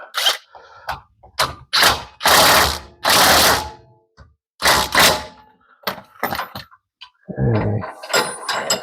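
Ratchet wrench snugging a lower control arm bolt on a 2011 Chevy Malibu during bushing repair, a run of loud clicking bursts and knocks, close and with no talk.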